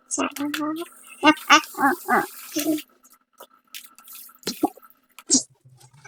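Water drains and drips from freshly sliced ingredients for molokhia, faint scattered drips following a short stretch of nearby talking.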